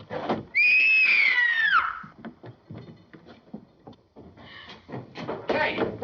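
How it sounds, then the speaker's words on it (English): A woman in a 1941 mystery film screams once, long and loud. The scream falls in pitch near its end and then gives way to muffled shuffling, a door-like bump and indistinct voices aboard a ship. "What made you scream?"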